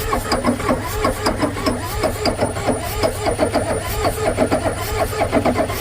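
A Ford 6.9 IDI turbo diesel cranks over and over without catching, a close, rhythmic chugging of starter strokes that continues for several seconds.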